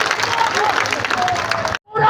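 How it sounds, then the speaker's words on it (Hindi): Applause and crowd noise from an audience greeting guests at a political rally, a dense steady wash of clapping and murmuring voices that cuts out abruptly near the end before resuming. "आप सबसे आग्रह है कि एक बार जोरदार तालियों से इनका स्वागत करेंगे"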